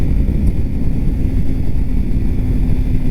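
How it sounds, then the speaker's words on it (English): A Yamaha R3 two-cylinder motorcycle engine drones with a steady, loud low rumble, likely heard from the rider's position while cruising on a road, with no voices over it. "I don't even think the R3 sounds terrible."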